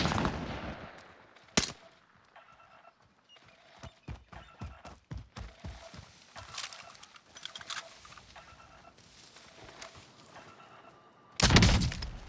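Gunfire in the video game Warzone: a string of sharp shots, some single and some in quick bursts, with a loud blast near the start and another at the end, set against a quiet background.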